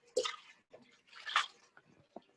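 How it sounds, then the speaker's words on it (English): A graduated cylinder in a darkroom being rinsed out with water, close splashing and pouring in short bursts with small drips between, fairly quiet and with no talk. "I'm just rinsing out my graduated cylinder off screen here."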